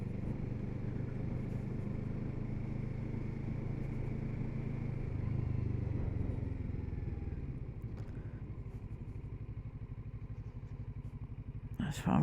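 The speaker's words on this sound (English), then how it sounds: "That's Farmer Chris's bike." A motorcycle engine runs at a steady drone close by for most of the stretch, then eases lower near the end, with a sharp knock at the close.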